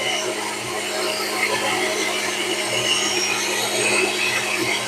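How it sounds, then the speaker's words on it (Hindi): A kitchen blender whirs steadily as it mixes a sauce paste with lemon juice for restaurant-style crispy chicken, a constant close high-pitched motor drone running without a break and no one talking. "अब सारी चीज़ों को मिलाकर हम ब्लेंडर में मिक्स कर लेंगे।"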